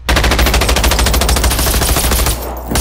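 A flying robot in the video game Generation Zero fires a rapid, evenly spaced burst of machine-gun rounds, loud and close, before the fire cuts off abruptly near the end.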